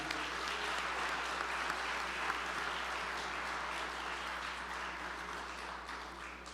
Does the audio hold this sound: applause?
yes